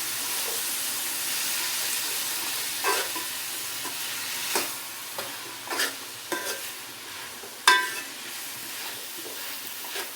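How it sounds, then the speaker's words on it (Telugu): Tomatoes and spices fry in oil in a pan, a continuous low sizzle with several sharp stirring scrapes and clinks spaced through, one louder near the end. "అన్నీ బాగా నూనెలో ఫ్రై అవ్వాలి."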